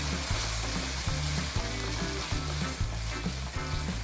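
Onions with a teaspoon of salt fry in a pan for Peshawari chicken, a loud, close, unbroken sizzle with a repeating low thumping beneath it.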